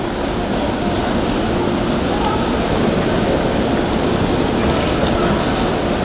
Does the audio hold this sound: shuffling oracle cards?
no